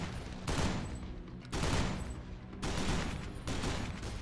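Gunfire rattles in the Dead Island video game: dense bursts of rifle shots come in several loud volleys with brief gaps between them.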